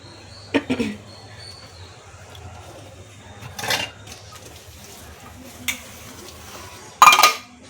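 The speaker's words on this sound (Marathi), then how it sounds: "सगळं काढते हळूहळू करून आणि भांडी घासून घेते सगळी" Scattered clinks and clatters of dishes and utensils at the sink, a few sharp knocks between quieter stretches of low background hum.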